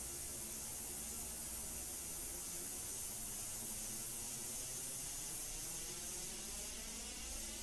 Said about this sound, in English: you can just see how smooth it is, how the airbrush is doing everything I'm asking it to